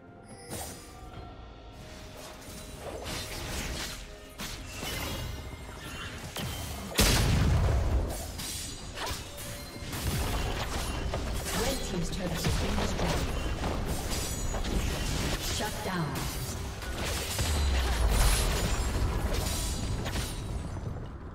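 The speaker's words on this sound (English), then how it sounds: "Red team's turret has been destroyed." Explosive booms and crashing impacts from a turret being destroyed in League of Legends, a Fiora versus Lee Sin top-lane match, with dense layered game effects throughout and a heavy thump midway and another near the end.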